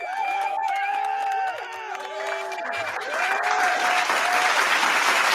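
Applause from a crowd swells under a sustained melodic tone, growing louder and denser toward the end.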